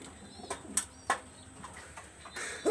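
Pigeons coo softly nearby while sharp wing flaps burst out a few times, with a louder flutter near the end.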